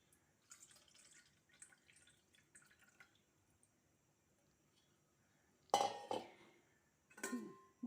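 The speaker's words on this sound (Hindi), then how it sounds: "गुड़ का पाउडर गर्म पानी के अंदर घुल गया है और अब हम उसे छान लेंगे।" Jaggery dissolved in hot water being strained in a kitchen: soft trickles and drips, then two louder bursts of pouring liquid with clinks of a metal utensil and pot, close and otherwise quiet.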